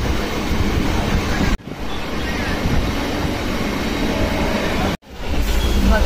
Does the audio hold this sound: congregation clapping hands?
no